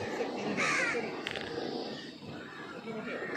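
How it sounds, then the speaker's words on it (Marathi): Crows caw a few times in a forest on Malabar Hill in Mumbai, the calls short and moderately close against a soft, quiet outdoor background. "पावलं पावली आपल्याला पक्ष्यांचा किटबिलाट ऐकू येतो"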